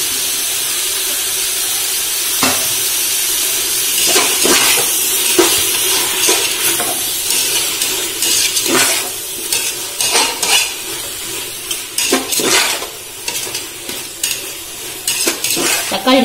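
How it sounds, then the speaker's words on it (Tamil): Tomatoes and green chillies sautéing in a pan for mushroom biryani, with a steady sizzle under repeated scraping and clinking of a spoon stirring against the metal, close and fairly loud throughout. "தக்காளி நல்லா வதங்கட்டும்."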